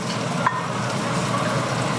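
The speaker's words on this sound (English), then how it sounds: "Oh. Sizzling." Steady sizzling of steak and garlic in a hot pan, a continuous hiss of frying food, close and even throughout.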